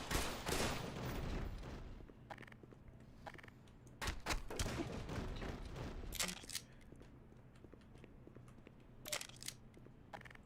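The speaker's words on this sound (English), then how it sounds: "Oh boy, it's an MP5!" An MP5 submachine gun in the game Black Mesa fires in short, sharp bursts spread across the moment, with a heavy opening volley followed by scattered rapid cracks, near and punchy.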